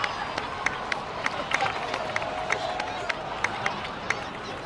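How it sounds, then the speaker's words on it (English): In Genshin Impact, a game crowd applauds heroes with steady clapping and cheering, punctuated by regular sharp footstep-like taps, heard at moderate distance. "so please give another round of applause for them"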